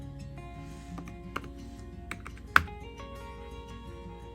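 Quiet taps on a phone's on-screen keyboard while searching the app store, a handful of soft irregular clicks close up in an otherwise hushed room.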